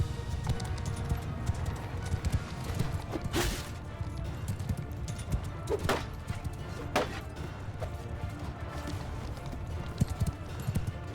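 Horse hooves clip-clopping in the video game Mount & Blade II Bannerlord, a run of irregular hoofbeats under battle ambience with a few sharp crashes and bursts scattered through.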